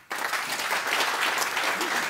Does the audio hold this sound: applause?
yes